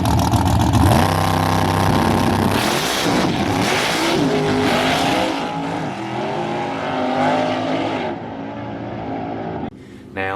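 A car with 158 first gear and 390 rear gearing lets off the brake and spins its tires in a loud, sustained burnout, the engine roaring over squealing, smoking rubber before cutting off near the end.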